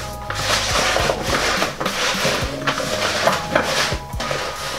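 Seasonings for a vegan Jamaican-style dish are mixed by hand in a bowl, with repeated close scraping and rubbing strokes and light clinks of a utensil against the bowl.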